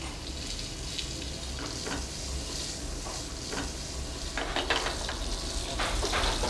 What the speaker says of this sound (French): on va faire cuire le foie gras qu'on a déjà assaisonné. Et surtout on prend une poêle sans matière grasse.